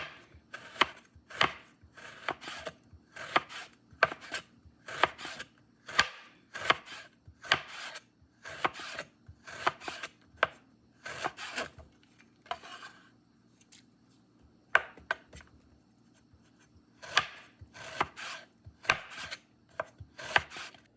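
A knife slices through banana sprout on a board in quick, evenly spaced cuts. The crisp chops come in bursts with brief pauses between runs, close and clear, with no voices.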